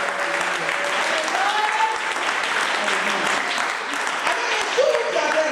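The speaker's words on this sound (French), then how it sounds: "Nous allons vraiment acclamer le Seigneur." A church congregation applauding, a dense sustained wash of many hands clapping close by, with voices shouting and talking over the clapping throughout.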